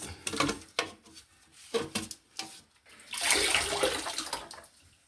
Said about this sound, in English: Water's still coming out